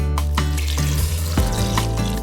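Coconut water pours steadily into a smoothie blender, a close, continuous liquid gurgle over a low hum and light background music.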